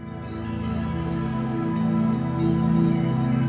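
A simple three-note chord voiced in fifths, held as one sustained, dense tone that swells slightly louder toward the end. No voices.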